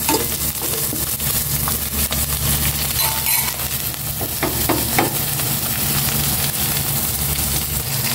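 Ingredients being sautéed in a hot pan for ginataang yellowfin tuna, with fried yellow beans added: a steady, loud sizzle with scraping and stirring clatter throughout, no voices.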